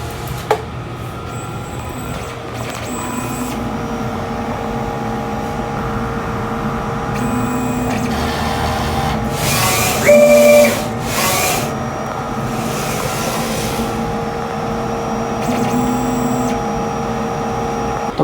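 A DTF printer runs a nozzle check after cleaning, giving a steady mechanical hum with repeated short print-head passes and carriage movements, plus a brief louder whir in the middle, all without talk.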